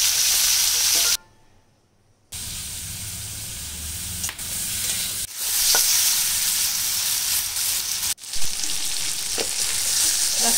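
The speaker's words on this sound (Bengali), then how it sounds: "তেল দেবো কড়াইতে, তারপর চিংড়ি মাছগুলো হালকা ভেজে নেবো।" Prawns fry lightly in oil in a kadai, giving a loud, steady close sizzle that drops out for about a second, then resumes with occasional stirring clicks and no talking.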